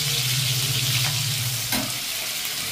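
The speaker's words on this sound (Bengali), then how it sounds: "এবার আমি হালকা করে একটু চিংড়ি মাছগুলো ভেজে নেব।" Prawns fry lightly in oil over low heat, a steady close sizzle with a faint low hum beneath and brief stirring scrapes in the pan.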